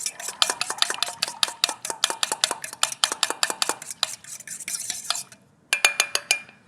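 A whisk beats olive oil and soy sauce in a bowl for an elk backstrap marinade, producing rapid, rhythmic metallic clinks, close and crisp, that pause briefly near the end before a final quick burst.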